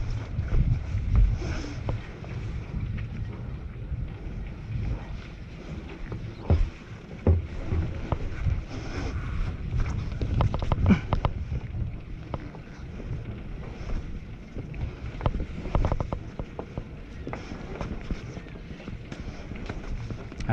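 A sailboat heads out of the harbour at Piriac-sur-mer, with steady wind buffeting the microphone and water sloshing against the hull, plus occasional knocks and thumps from the boat; brief speech can be heard here and there.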